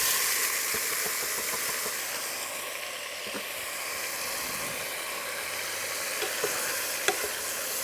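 Tomatoes sizzle and hiss in a hot frying pan after going in with browning garlic, a steady bright crackle with occasional stirring clicks and scrapes, close and continuous.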